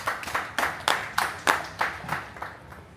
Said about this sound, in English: I should clap for you.